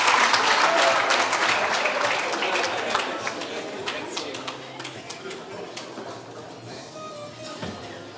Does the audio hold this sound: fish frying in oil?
no